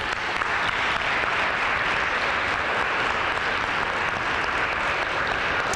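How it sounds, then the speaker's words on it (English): An audience claps steadily for a youth choir at an evening Frederick Douglass birthday event, a continuous, even wash of applause with no voices over it. "Let's give them another round of applause."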